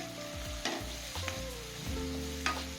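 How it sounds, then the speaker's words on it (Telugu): Sliced onions with turmeric frying in a pan give a steady, soft sizzle, broken by a few scraping stirs of the spoon, with no voices. "ఈ ఆనియన్స్ కొంచెం ఎర్రగా అయ్యే వరకు వేయించుకొని"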